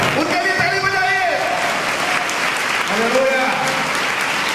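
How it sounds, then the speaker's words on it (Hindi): A church congregation at a fiftieth-anniversary ministry service claps steadily for several seconds, the applause mixed with sustained organ or keyboard chords. "उनके लिए ताली बजाइए."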